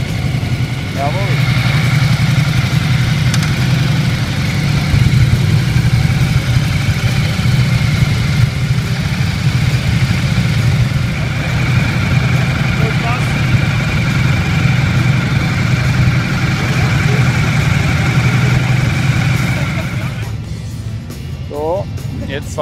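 A KTM 1290 Super Adventure motorcycle engine idles steadily and close by at a test-ride day in Derendingen, a constant low throb that runs for about twenty seconds before dropping away.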